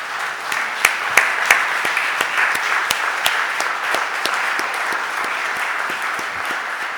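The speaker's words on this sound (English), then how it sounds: "so we can give them a round of applause" A round of applause for visiting students in the Philadelphia City Council chamber, a sustained crowd clapping with a few sharp, distinct individual claps standing out, lasting the whole stretch without speech.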